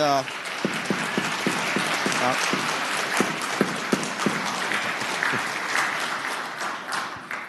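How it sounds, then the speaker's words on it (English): Applause in a state senate chamber for visiting Virginia firefighters in the gallery, a busy crowd of claps with some sharp individual hand strikes near by, voices murmuring underneath. "You definitely deserve all that applause"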